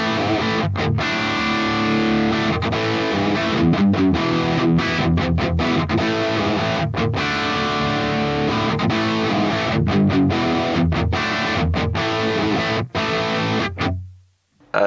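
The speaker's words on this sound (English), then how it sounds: "And the more driven sounds are kind of in that 2203 territory, but it's a lot fatter sounding." Driven, fat and dark electric guitar tone from a Fractal Audio Mars Silver amp model, with continuous loud chugging chords and riffs with short rhythmic breaks, played alone until a final cutoff.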